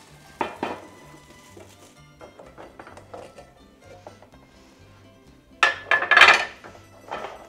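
Two hinged frying pans holding a frittata clank and rattle as they are handled and then flipped over, scattered soft knocks followed by a loud metallic clatter near the end, close by without speech.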